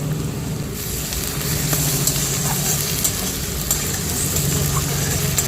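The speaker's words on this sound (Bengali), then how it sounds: "পেঁয়াজটা আমি তেলের উপর দিয়ে দিচ্ছি। পেঁয়াজটা আমি ভালো করে ভেজে নেব।" Onion frying in oil in a pan, with ginger, garlic and green chilli going in, a loud continuous sizzle with stirring scrapes, close by and steady throughout, no talking.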